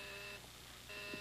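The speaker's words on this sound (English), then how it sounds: "Oh, it's ringing." Two short electronic ringing tones sound with a brief pause between them, thin and moderately quiet, like a telephone ringing on the line.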